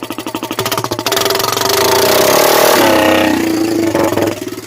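Straight-piped Honda 300EX ATV engine with no muffler, loud and close: a pulsing idle that rises into a sustained rev, then settles back to a choppy idle.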